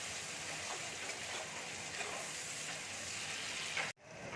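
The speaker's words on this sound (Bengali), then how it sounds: "এবার আমি ক্যাপসিকামটা দিয়ে দিচ্ছি, দিয়ে ভালো করে ভেজে নেব একটু।" Capsicum frying in a pan for egg curry gives a steady, close hiss of sizzling oil that carries on evenly, then cuts out abruptly near the end before faintly returning.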